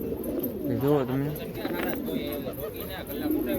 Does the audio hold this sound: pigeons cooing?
yes